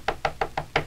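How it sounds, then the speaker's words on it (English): Five evenly spaced knocks on a front door, a steady hollow rapping that is close and fairly loud, with no voices over them. "Knock again."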